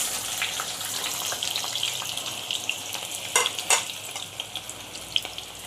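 Chopped onion and green chili frying in a pan for a chicken gravy, a steady, bright hiss of hot oil with scattered crackles and a few sharp stirring scrapes, close and fairly loud.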